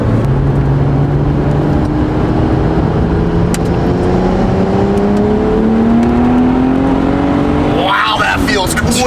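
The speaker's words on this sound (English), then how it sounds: "I'm giving it throttle enough for the turbos to really pull it" A twin-turbo BMW 135i engine pulls hard under throttle, its loud, close drone rising steadily in pitch for several seconds, with a brief rougher burst near the end.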